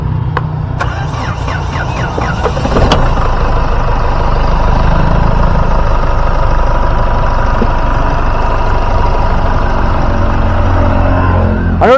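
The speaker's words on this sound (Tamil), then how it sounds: "வண்டியோட இன்ஜின் சவுண்ட் எப்படி இருக்கு அப்படின்றத கேட்போம்" A Mahindra Xylo car engine idles steadily, a low continuous rumble with a couple of brief clicks near the start, no voices.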